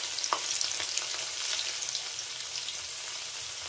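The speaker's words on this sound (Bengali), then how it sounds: "তো পনিরগুলোকে একদমই হালকা ভাজবো, এক পিঠেই ভাজবো, 2 পিঠ ভাজবো না" Paneer is fried lightly on one side in a pan with turmeric and chili flakes, making a continuous, even sizzle with faint crackles, heard close and alone.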